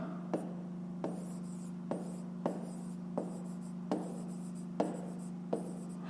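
Handwriting on paper while working a fifth-grade maths exercise, with a series of crisp pen taps and short strokes at a steady pace over a constant low hum, close and clear with no talk.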